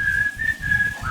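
A steady whistled melody with a few sustained notes, played loud and close against a low rumbling background.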